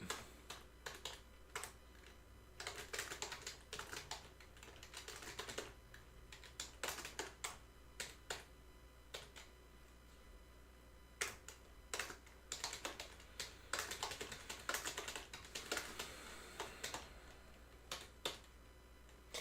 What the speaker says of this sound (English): when I'm typing all this stuff